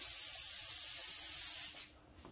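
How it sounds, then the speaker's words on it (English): A spray gun lays clear coat onto a car panel in a steady, close, loud hiss that cuts off abruptly near the end, leaving a quiet tail. "we're going to watch him spray"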